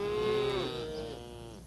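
A single cow lets out one long, drawn-out moo that slides downward in pitch and fades, alone and fairly faint.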